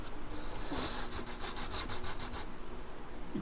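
Sandpaper rubs across the wooden deck of a 1:76 scale USS Constitution model, about ten quick back-and-forth strokes in a steady rhythm, close and soft, with no voices.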